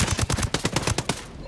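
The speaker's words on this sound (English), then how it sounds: "That was an easy little gunfight." Rapid bursts of automatic gunfire during a gunfight in Ghost Recon Breakpoint, loud and close with sharp repeated shots in an uneven rhythm, fading out near the end.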